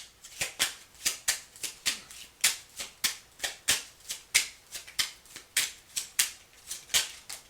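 Tarot cards are shuffled by hand, a rapid run of crisp, evenly spaced riffling snaps that repeats steadily throughout, close and fairly quiet.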